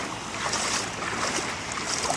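Feet wading through shallow sea water at a beach at Sand Key, Florida, a continuous splashing wash mixed with surf and breezy wind noise, fairly close and steady with no talk.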